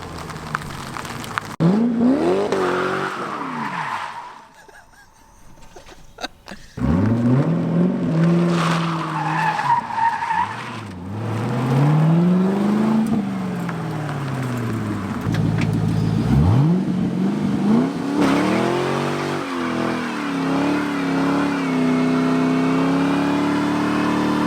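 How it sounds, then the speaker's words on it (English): A C5 Corvette does a burnout, its engine revving hard in repeated rising and falling sweeps while the tires squeal and skid loudly up close, with a brief lull partway through. "First burnout in the vet, baby."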